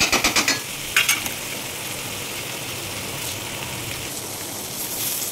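Curry leaves frying in hot oil and being stirred in a pan, a few sharp crackling bursts and spoon clatters at the start, then a constant loud sizzle alone with no voices.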